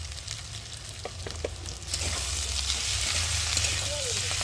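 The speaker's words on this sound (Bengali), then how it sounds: "মশলাটাকে ভালো করে আলুর সাথে কষিয়ে নেবো একটু সময় ধরে" Potatoes fry with ground turmeric, chili, coriander, ginger and cumin paste and tomato in a pan, a steady close sizzle that swells midway, with a few stirring scrapes and light talk underneath.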